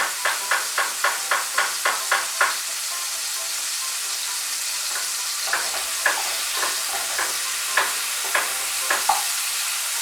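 Tomatoes frying in a pan with poppy-seed paste cooking to follow, a steady close sizzle under a quick run of rhythmic scraping stirs, then slower, sparser stirring strokes later on.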